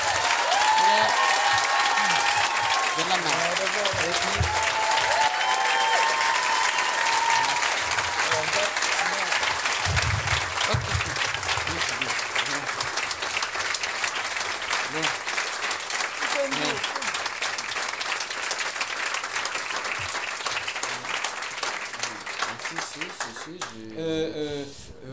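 Audience applause at a Harry Potter themed pop culture comedy night show, loud continuous clapping and crowd noise lasting over twenty seconds, with voices talking and calling out over it before it thins at the close.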